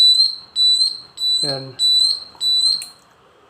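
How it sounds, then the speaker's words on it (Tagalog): A long-range infrared security alarm sounds a steady run of five short, high-pitched electronic beeps at an even rhythm, close and loud, with a brief spoken word partway through. "Yan yung alarm natin yun."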